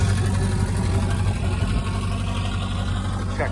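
A car engine idles steadily after repairs, a low continuous rumble that stays close and even throughout with no talking.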